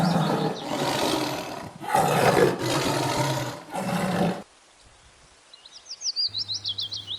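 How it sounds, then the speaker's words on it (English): A tiger roars in a series of loud, rough bursts, four or five in quick succession, followed by quiet, then high chirping and a short rhythmic pulsing sound near the end. "T for tiger"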